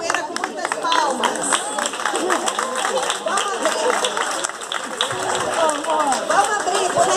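A crowd claps and cheers to welcome an arriving capoeira group at an outdoor cultural gathering at a museum in Vassouras, Rio de Janeiro. Dense, steady applause mixes with lively chatter and voices throughout.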